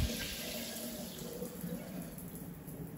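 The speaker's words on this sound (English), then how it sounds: "I can only run this a little while. But this is our rain head right here." A rain-style Kohler shower head runs in a bathroom still missing its glass door, giving a steady, close hiss of falling water with no talk.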